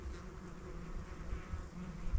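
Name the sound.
bees swarming around ants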